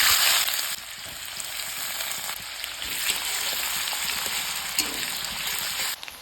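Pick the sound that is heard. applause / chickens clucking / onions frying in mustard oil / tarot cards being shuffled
onions frying in mustard oil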